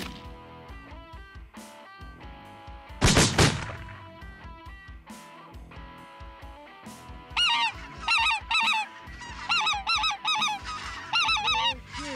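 Geese honk repeatedly during a waterfowl hunt, their calls sometimes single and sometimes in rapid overlapping bursts, growing louder and busier toward the end. One sharp, loud gunshot-like crack cuts in early on.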